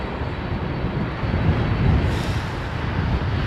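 A worn, ageing airliner at London Heathrow Airport gives a steady, loud engine roar that stays dense and broadband throughout, swelling slightly near the middle with no talk over it.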